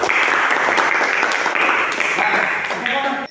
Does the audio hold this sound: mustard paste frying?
no